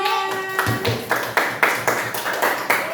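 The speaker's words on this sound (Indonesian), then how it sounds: "Ya, tepuk tangan." A class gives a group clapping appreciation: rhythmic, fairly close clapping in distinct bursts, with a brief tonal sound at the start and low thumps underneath.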